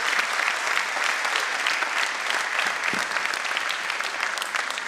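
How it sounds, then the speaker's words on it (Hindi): Loud, sustained applause from a large crowd at a school annual function in India, dense and even throughout with no pauses. "आइए तालियों से स्वागत करते हैं आदित्य जी का"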